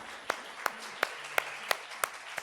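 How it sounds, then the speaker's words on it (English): Faint, sparse handclaps from a church congregation land in a steady, evenly spaced rhythm, about seven sharp claps over a quiet room. "So have a round of applause."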